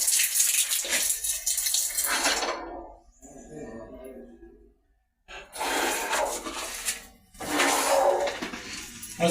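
Water gushes hard in bursts from shower and kitchen plumbing, with loud hissing spells broken by quieter gaps and short pauses, and faint breathing and other sounds come through between the flows.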